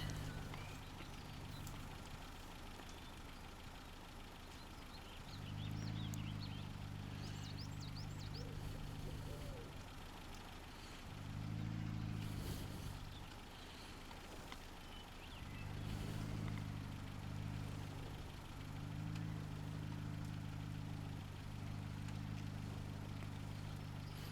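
A truck engine in the Mudrunner video game idles with a steady low rumble that swells and eases in several long bursts, with no one speaking over it.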